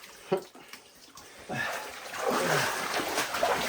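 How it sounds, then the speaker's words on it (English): Water runs and splashes over hands being washed in a flooded mine chamber deep in a historic inclined shaft, starting with a few drips and then a steady rushing pour, with a brief voice heard early. "Wait, I wash my hands."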